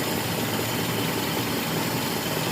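A car engine idles steadily while its carburetor idle mixture is being adjusted, a close, even mechanical rumble with a faint hiss and no pauses.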